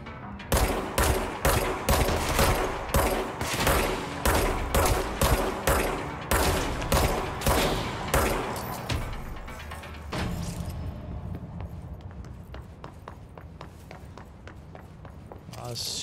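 Video game gunfire comes as a fast run of evenly spaced loud shots that fade into quieter, scattered sounds. A voice speaks over part of it.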